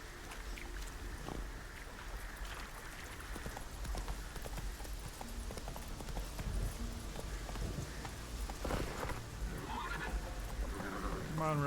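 Geralt's horse Roach in The Witcher 3 on Death March difficulty, hooves clip-clopping at a steady gallop with a whinny near the end, over ambient game wind and faint background water.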